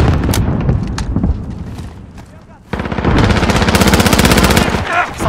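Heavy automatic gunfire in Call of Duty: Modern Warfare, loud close rapid bursts with booming shots, dense and continuous through the second half after a choppier opening.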